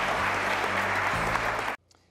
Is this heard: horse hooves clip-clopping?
no